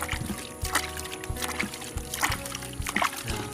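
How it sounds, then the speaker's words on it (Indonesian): Water poured and splashed over smoldering charcoal in a homemade charcoal pit, with repeated sloshing pours and trickling bursts at close range, no voices. "Makanya kita siram lebih banyak."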